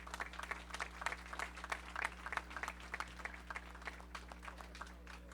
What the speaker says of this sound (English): Let's give Anthony's Catering a round of applause